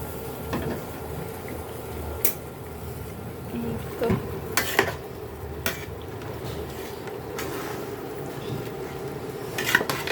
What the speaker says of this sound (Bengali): অন্য হাঁড়িতে আমি মশলাটা কষায় নিচ্ছি